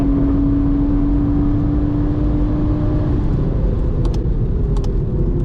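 A modified Toyota GR Supra drives on a race track with a loud, steady engine drone and whine held at a near-constant pitch, heard from close by with no talking.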